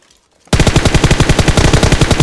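Rapid automatic gunfire from a PUBG Mobile match fires after a short silence, a loud, close, steady burst of evenly spaced shots for nearly two seconds with no voices.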